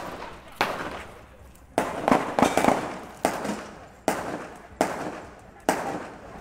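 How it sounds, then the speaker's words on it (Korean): Gunshots at a rally in Minneapolis, a series of about seven sharp loud cracks spaced roughly a second apart, each with a ringing outdoor echo trailing off between them. "It sounds like gunshots."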